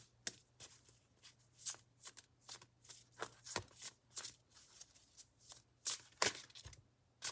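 Tarot cards shuffled by hand close to the mic, a string of soft quick riffles and taps in an irregular rhythm, faint and quiet over a low steady hum.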